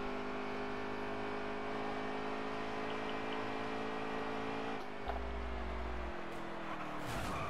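A race car engine drones steadily in low gear in a racing video game on the Charlotte Roval, holding a constant high whine that dips briefly before climbing again, with no talk over it.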